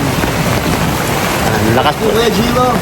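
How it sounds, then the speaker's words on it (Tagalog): Heavy rain pours down steadily outdoors, a dense loud hiss filling the whole stretch, with voices talking over it. "Lakas ng ulan bro."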